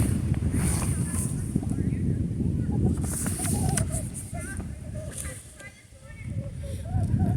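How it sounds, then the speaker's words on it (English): Outdoor wind buffets the microphone in low rumbling gusts that swell, briefly ease and then return, while a person speaks over the noise. "The wind is blowing again, so hopefully you're not hearing too much."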